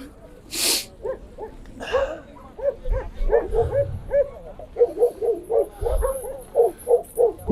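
West Siberian Laika hunting dogs at a show give short yips, whines and barks in uneven bursts, fairly close, with crowd noise and a brief sneeze-like burst near the start.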